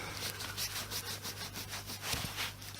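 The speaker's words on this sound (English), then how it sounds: "What I'm also going to do is clean up this rubber seal" Someone rubs clean the old rubber seal of a vintage British vacuum cleaner, making a soft, steady scrubbing sound in repeated strokes, close up and quiet, with a low hum underneath.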